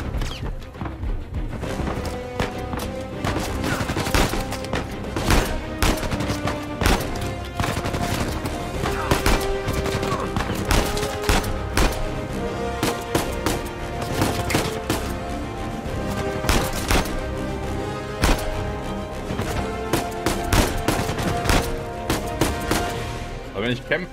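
Gunfire in the video game Uncharted 4, with rapid bursts of automatic shots and sharp single cracks in an irregular rhythm, loud and close, mixed with impacts and crashes.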